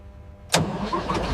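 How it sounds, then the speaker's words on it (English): A restored battle tank, about 80 years old and recovered from the ocean floor, turns over and fires up with a sudden loud burst. It settles into a steady, rumbling run close by. "Stand by for engine ignition."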